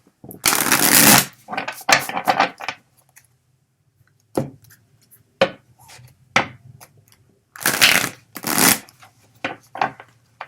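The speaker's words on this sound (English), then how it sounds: "Give it a good shuffle." Tarot cards being shuffled in several bursts, riffling flutters and soft slaps separated by pauses and occasional single taps, close and fairly loud.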